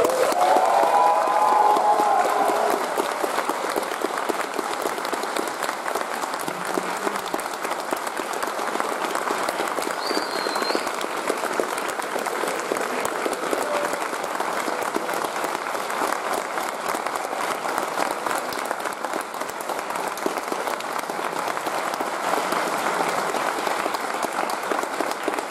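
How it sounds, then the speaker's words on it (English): A convention crowd at a panel in Prague gives a guest long, sustained applause, dense and loud throughout, with some cheering near the start. "I would ask for a huge applause for our guest,"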